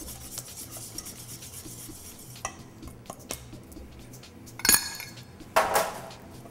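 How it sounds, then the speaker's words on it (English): Flour is whisked into a mixture in a bowl, producing rhythmic rubbing and scraping strokes with sharper metallic clatters toward the end, close by and with no voices. "Careful not to whisk too fast like I just did, and flour flies up in your face"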